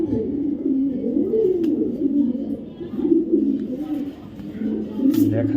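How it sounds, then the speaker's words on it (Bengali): A female racing pigeon of a foreign bloodline coos in low, continuous rolling phrases, close and steady, with a brief higher chirp near the end. "এটা হলো মাদি কবুতর"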